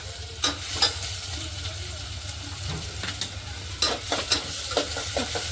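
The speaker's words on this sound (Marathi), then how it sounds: "आता आपलं तेल तापलंय आपण कांदा टाकला" Two finely chopped onions sizzle in hot oil while being stirred for a Maharashtrian chicken sukka and rassa, a steady close frying hiss broken by irregular scraping stir strokes.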